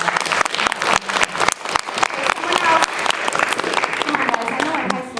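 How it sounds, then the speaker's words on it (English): Audience applause rings out steadily and loudly after a person named Danielle is introduced at a talk, a dense continuous clapping with a voice speaking over it. "Give Danielle a big round of applause."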